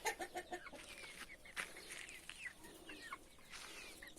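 Several chickens cluck and chatter over a steady outdoor background, with overlapping calls coming in irregular bursts at close range.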